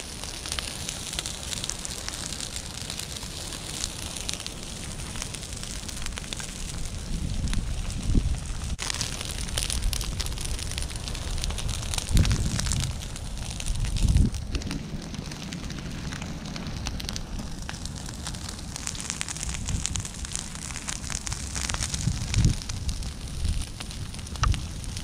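Prescribed fire burning through a Mid-Atlantic pine forest understory, a steady roaring crackle with low rumbling surges and wind-like rushing, close and continuous throughout with no voices.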